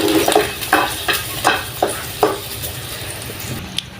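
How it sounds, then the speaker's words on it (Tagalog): Garlic sautéed in a pan gives a soft sizzle broken by several distinct scraping stirs and clinks of a utensil, fairly close with no talking. "Igigisa natin ang bawang."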